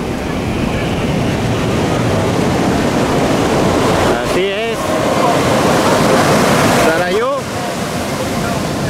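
Ocean surf at Ixtapa beach makes a loud, continuous broadband roar with a steady rush of breaking waves throughout, and two brief swooping sounds cut across it partway through.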